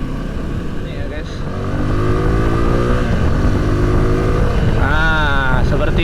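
A Suzuki V-Strom 250 SX motorcycle accelerating through the gears, its engine note rising in pitch in steady sweeps, close and loud with wind noise. A rider talks over it.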